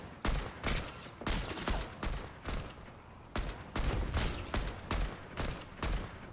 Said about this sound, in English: Yo, they're shooting us from on top of the hill again.